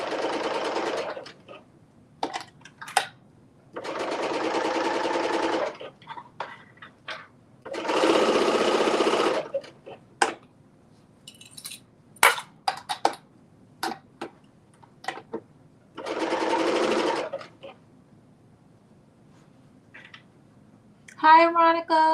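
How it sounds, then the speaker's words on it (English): A sewing machine runs in several bursts of steady rapid stitching through layered fabric, separated by quiet pauses with light clicks and handling noises, close and clear. "as you're either sewing and or serging this in place"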